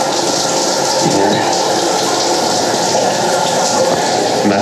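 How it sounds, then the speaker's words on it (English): A truck stop shower runs hard, a loud, steady, close hiss of spraying water that holds unchanged from start to finish with no voices. "And then you just crack on the shower"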